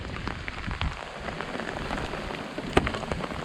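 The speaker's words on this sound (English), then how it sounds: "Well, the rain has caught us." Rain falling during a wilderness camping and fishing trip, a steady dense patter of drops on surfaces with one sharper tap, moderately quiet and continuous with no talk.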